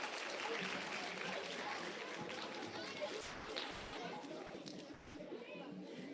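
An audience applauds after a dance performance at an ISKCON Sunday program, steady dense clapping that carries through the whole stretch with some crowd chatter mixed in.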